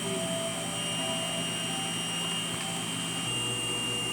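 A DTF printer running its print head cleaning cycle: a steady mechanical whir with a constant high-pitched whine drones on evenly without pause.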